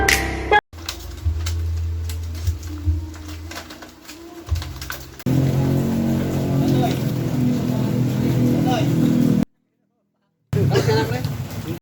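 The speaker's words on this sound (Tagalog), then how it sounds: "So yun yung mga ibon natin guys, nagkakainan na sila." Racing pigeons cooing and fluttering while they feed in a loft training setting, a steady bird murmur under overlapping talk, with an engine-like hum early on and a brief silent gap near the end.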